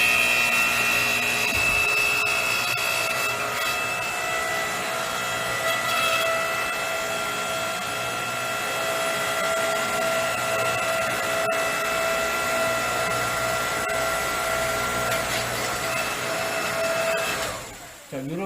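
Hydraulic log splitter motor running steadily while splitting firewood, a continuous loud mechanical whine and hum held for about seventeen seconds before cutting off abruptly at the end.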